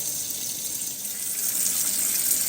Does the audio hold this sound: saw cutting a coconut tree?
no